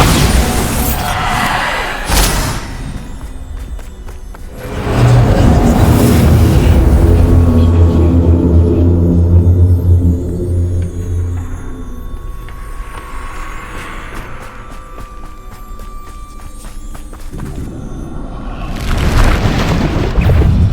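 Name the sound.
Bombarda spell explosions, from the video game Hogwarts Legacy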